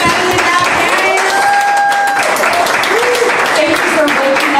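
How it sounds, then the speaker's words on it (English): Church congregation applauding its young people during Sunday worship, a loud, sustained round of clapping and some cheering from a crowd nearby, with voices talking over it. "Round of applause for our young people."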